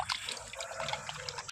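Water pours and splashes as raw chicken pieces, sprinkled with turmeric, are rinsed in a bowl for a bachelor-style chicken gravy, a faint, continuous trickle with small drips and sloshes and no talking.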